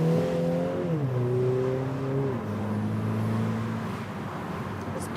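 Turbocharged 2-litre four-cylinder engine of a MINI JCW convertible, heard from inside while driving, pulls through gears with rising tones that step down at each shift, a loud steady drone settling into lower cruising revs.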